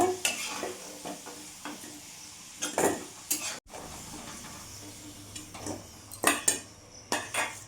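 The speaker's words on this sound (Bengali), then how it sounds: "আলুটা একটু লাল লাল করে ভেজে নেব" Potatoes frying in oil in a pan for a Bengali potato and pointed gourd curry, a soft background sizzle broken by repeated scraping and clinking of a metal spatula stirring against the pan, close and fairly quiet, no talking.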